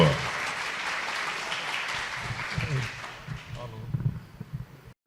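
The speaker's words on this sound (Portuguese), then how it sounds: "Pode aplaudir, senhoras e senhores." Audience applause at an agricultural citrus conference talk: steady dense clapping from a crowd, fading out near the end, with a voice speaking over it.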